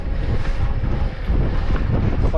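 Wind rushing past the microphone while riding an electric-assist mountain bike on a trail circuit near Sunbilla, a steady loud low buffeting roar without voices.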